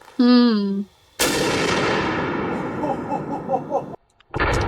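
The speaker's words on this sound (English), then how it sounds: "Next, we're gonna use a blue tip. This is a pure incendiary round." A single heavy .50 BMG blue-tip incendiary round fired into a concrete block: one sharp, loud crack rolling into a long rumbling echo that fades over several seconds, preceded by a short tonal vocal sound and followed by another abrupt noise.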